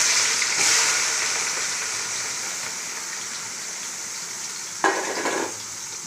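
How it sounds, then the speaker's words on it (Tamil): Onions sizzle and crackle steadily in hot oil for mutton biryani, a loud close frying hiss with a brief burst of stirring near the end. "வெங்காயம் நல்லா வதங்கட்டு"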